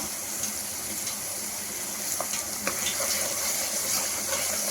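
Half a spoon of ginger garlic paste fries in a pan of oil, a steady close sizzle with faint stirring scrapes throughout.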